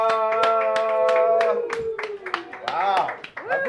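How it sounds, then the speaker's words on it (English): A studio crowd cheers and claps for two podcast guests arriving on a local Saskatoon news and entertainment show, a short burst of applause and whoops that fades as voices talk over it. "I think Kid Joel got a way better cheer than you guys."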